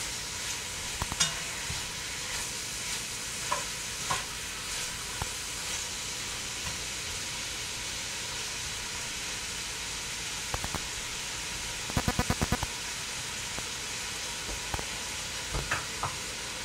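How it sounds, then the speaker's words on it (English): Beef browns in olive oil in a pan for a Greek Epirus-style dish, giving a steady close sizzle and hiss of frying. Occasional clicks and scrapes from stirring come through, with a brief rattle partway through. "Okay, we're getting some nice browning on that."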